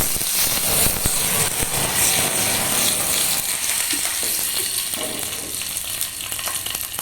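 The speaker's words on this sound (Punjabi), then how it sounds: "ਹੁਣ ਪਾਵਾਂਗੇ ਜੀ ਆਪਾਂ ਇਹਦੇ ਵਿੱਚ ਕੜੀ ਪੱਤਾ ਤੇ ਸਰੋਂ ਇਹਦਾ ਤੜਕਾ ਲਾਉਣਾ ਜ਼ਰੂਰੀ ਹੈ" Loud, steady sizzling of curry leaves and mustard seeds crackling in hot oil, a dense hiss with scattered pops throughout, close by and with no talking.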